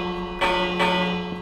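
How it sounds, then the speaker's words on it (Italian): Two loud bell strikes ring out about half a second apart in Minecraft, each with a bright metallic attack and a long sustained ringing tone over a steady hum. "Ehi, campanello!"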